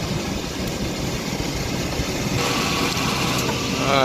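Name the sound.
AC compressor cycling on 2002 Chevy Astro van engine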